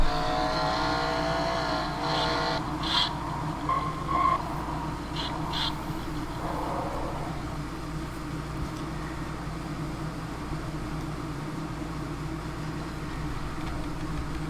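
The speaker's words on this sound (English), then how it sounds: "let's ride on board with the number 11 car" Onboard audio from the number 11 race car in a Kwik Trip 250 racing game, a steady low engine drone with a few brief higher-pitched sounds early on, then an even, unbroken hum to the end.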